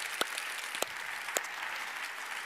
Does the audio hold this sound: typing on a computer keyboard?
no